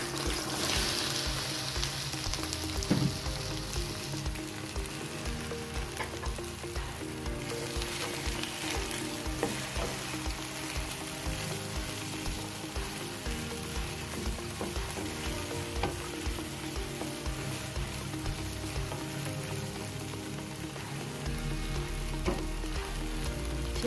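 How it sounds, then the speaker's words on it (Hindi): Sliced okra frying in hot cooking oil, a dense, steady sizzle and crackle that runs loud and close throughout, with occasional stirring clicks and no talking. "अब हम इसमें भिंडियाँ डालते हैं।"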